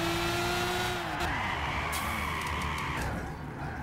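A car drifting in Gran Turismo 6, its engine droning steadily while the tires squeal and skid in a long continuous slide, with the pitch shifting as it sweeps through the corner.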